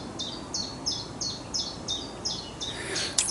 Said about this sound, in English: the birds talking to one another